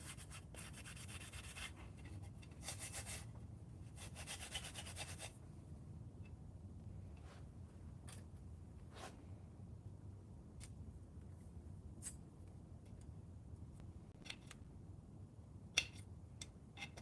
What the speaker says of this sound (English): take my red scuff pad, some brake cleaner, clean it up around the edge where the gasket sits